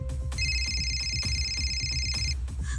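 An indoor telephone rings with one electronic ringtone burst lasting about two seconds over a low steady background hum, fairly close and with no talking.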